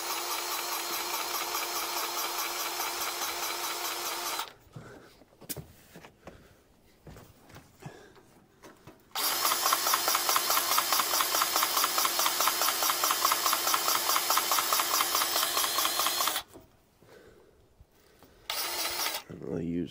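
A grease gun machine runs loudly in steady mechanical bursts, first for several seconds, then again for a longer stretch after a quiet gap, with a brief restart at the end and some handling noise between.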